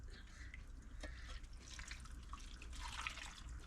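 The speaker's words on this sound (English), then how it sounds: "I'm going to pour that on top of the pork and the sweet potatoes." Liquid pours over pork and sweet potatoes in a cooking pot, a quiet trickle with light dripping and splashing that builds toward the end.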